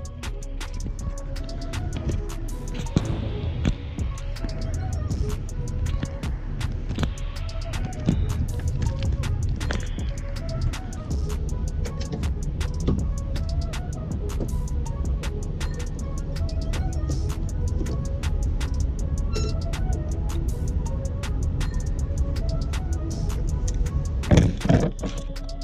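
A small pump runs steadily while flushing a tankless water heater, giving a continuous low mechanical hum with scattered clicks and knocks, and a voice speaks intermittently over it.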